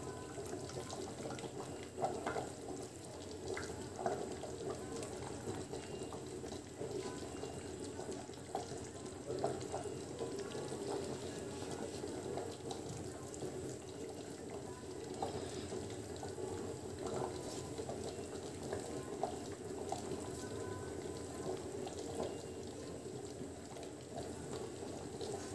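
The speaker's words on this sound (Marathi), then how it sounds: "आता आपण उकळी आली आहे तर जिलेबी टाकून घेऊया।" Jalebi batter frying in a pan of boiling liquid for a halwai-style tikhat jalebi, giving a steady, continuous bubbling sizzle with small pops and crackles throughout, close and moderately loud, with no talking.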